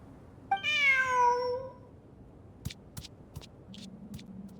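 A cat meows once in the video game Genshin Impact, a clear rising-falling call near the start, followed by faint clicks and soft game sounds.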